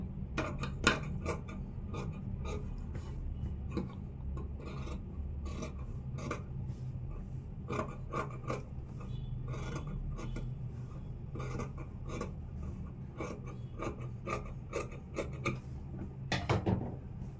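Scissors cutting excess fabric while sewing a churidar, a series of close, quiet snipping and rasping cuts in an irregular rhythm, with no talking.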